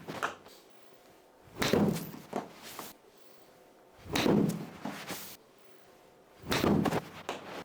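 Golf club striking the ball on three-quarter swing shots with a 58-degree wedge, three separate solid thuds spaced a few seconds apart, each ringing out briefly over quiet outdoor background.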